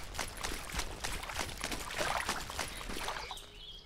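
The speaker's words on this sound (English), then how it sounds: "I'm just sloshing through this river" Footsteps wading and sloshing through a river in the Call of Juarez: Gunslinger video game, rhythmic watery splashes and pours at a soft, close level over a faint running-water bed.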